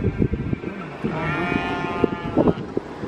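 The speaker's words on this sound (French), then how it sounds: "Regarde Mila, c'est des moutons." Several sheep bleat close by, overlapping wavering calls mixed with scattered bumps and rustling from the flock.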